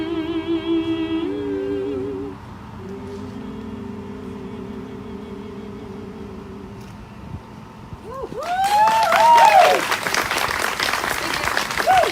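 At an outdoor charity walk event, music and singing give way to audience applause that swells loudly near the end, with whoops and cheering over the clapping.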